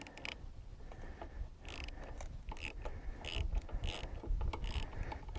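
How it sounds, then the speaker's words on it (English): A ratchet on a swivel works loose the rear peg bolts of a Harley Softail, giving quiet, uneven clicking bursts with small metallic creaks in a calm garage. "I'm going to use a swivel to get in there"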